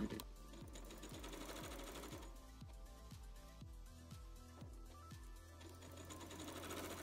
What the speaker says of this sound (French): Je plie sur 1 cm et je couds à distance de 7 mm du bord.